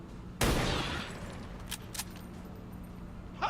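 A single loud burst of gunfire in XCOM 2 cracks out near the start and rings off, followed by two faint sharp clicks and another small burst near the end, with no voices.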